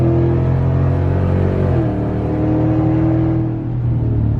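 A truck engine fitted with a throttle controller revs steadily and loudly, a continuous close rumble with a slight dip in pitch partway through and no voices over it.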